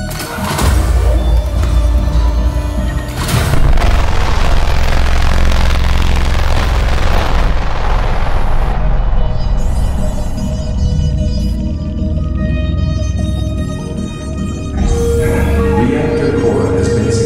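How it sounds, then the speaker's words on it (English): Heating lasers fire at a reactor core at an atomic research site in a video game, a loud, sustained, roaring synthetic blast with deep rumble that gradually thins into a ringing tonal hum before surging again near the end. "Firing heating lasers."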